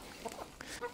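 Backyard chickens cluck in short, close bursts as they are fed corn.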